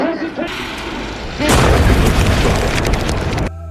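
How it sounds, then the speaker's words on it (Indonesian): A bomb blast in a war drama goes off suddenly after about a second and a half of faint voices. Loud rumbling and debris noise follow, then cut off abruptly near the end. "Bilal terkena serangan bom yang membuat Amy menjadi panik"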